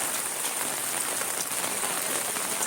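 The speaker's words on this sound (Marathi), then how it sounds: "खूप मोठा पाऊस पडलाय" Heavy rain pours down steadily as a dense, loud, even hiss of drops hitting surfaces nearby, with no speech.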